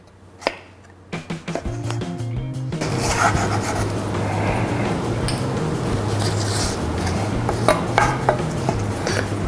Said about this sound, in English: Now we're going to cut it lengthwise.